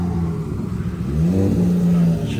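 A Nissan S15 engine idles and revs while warming up, a loud, close low rumble that rises into a brief rev before settling back.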